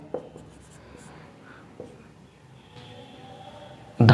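Pen scratching on paper while working through a class 6 maths problem, soft intermittent scribbling strokes close by, with quiet speech at the very end.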